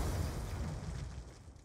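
An RPG rocket explodes in Black Ops 2 with a loud, low rumbling boom that rolls and slowly fades over under two seconds, with no voices.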